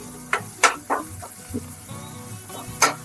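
Onions sautéing until brown in a pan, a low sizzle broken by several sharp spatula scrapes and clacks at irregular intervals, close, with no talking.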